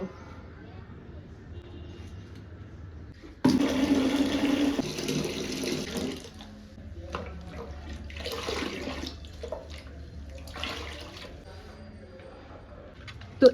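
Humic acid plant food being stirred into water makes a short burst of splashing and sloshing of about three seconds, then quieter stirring, with faint voices in the background.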